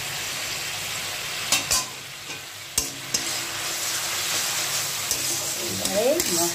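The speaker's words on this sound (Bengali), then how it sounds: "কষিয়ে নেবো আমি মশলা, ভালো করে কষিয়ে নেব।" Spice paste with tomato, turmeric, chili powder and salt sautéing in a pan for a ridge gourd and pabda fish curry, sizzling steadily with a few sharp scrapes and clinks of stirring scattered through.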